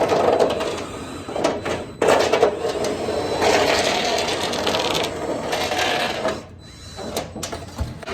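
A tin shear attachment on a Dewalt cordless drill nips the edge off sheet metal with a busy mechanical chattering and grinding that stops and restarts in short bursts as the trigger is feathered, close up.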